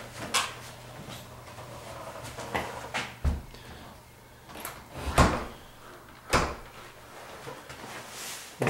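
An interior door of a two-bedroom duplex rental, fitted with a lock and deadbolt, is opened and shut several times, giving sharp knocks and latch clunks with quiet gaps between them.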